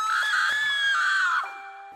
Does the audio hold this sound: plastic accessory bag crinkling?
no